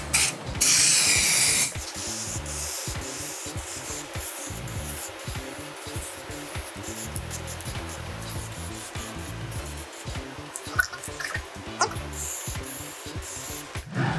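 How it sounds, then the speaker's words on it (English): Cast aluminum valve cover sprayed with POR-15 stainless steel paint from an aerosol can: a loud hiss at the start, then quieter intermittent spraying with soft rubbing and handling noises. "we're gonna spray this with stainless steel"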